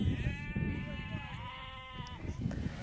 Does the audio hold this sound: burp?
no